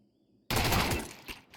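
A Counter-Strike headshot rings out in a competitive pro match, an abrupt loud gunfire burst after near silence that decays over about a second, with a smaller crack following.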